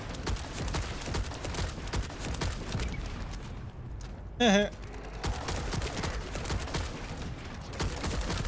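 Rapid gunfire in the shooter game The First Descendant, steady volleys of loud shots filling the clip, briefly broken by a short rising tonal effect midway.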